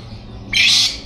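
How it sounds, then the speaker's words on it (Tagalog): A single loud, harsh squawk from a chicken-like bird bursts out close by after a quiet moment, lasting about half a second over low background hum, with no talking. "Parang manok na parang ibon."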